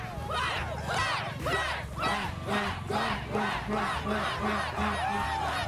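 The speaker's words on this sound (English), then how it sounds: "Can I get a duck cheer from somebody here?" A crowd of fans at an outdoor early-morning TV show in snowy weather shouts a rhythmic duck cheer, repeated loud group chants in a steady pulse with quacking-like calls.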